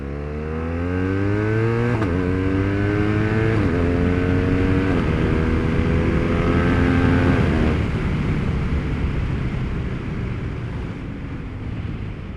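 A BMW R1200RS motorcycle pulls away in first gear, its boxer engine note rising steadily in pitch through a long rev, then easing off with wind buffeting the microphone throughout.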